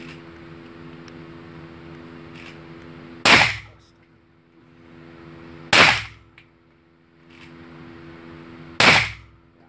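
Gunshots at a shooting practice range, three sharp loud cracks spaced a few seconds apart over a steady mechanical hum, no talking.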